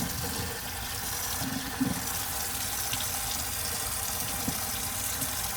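Water runs steadily from a tap to wet a machete blade, a continuous close splashing with a few faint knocks.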